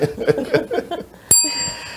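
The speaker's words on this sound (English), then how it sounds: "The sheriff just brought the bell in." A single sharp bell strike rings out in a radio studio right after a stretch of speech, leaving a bright, lingering metallic tone that fades slowly.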